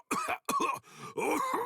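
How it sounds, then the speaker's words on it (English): A character in the video game Bleach Rebirth of Souls coughs in three or four harsh, close bursts, with a brief breathy pause between them. "how long you gonna cough?"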